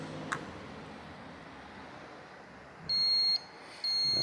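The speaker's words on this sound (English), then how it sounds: "That's my heat pad beeping, saying it's turning off." A heat pad beeps as it switches off, two steady electronic tones in quick succession, the second starting just after the first ends, clear over a faint hiss of room noise.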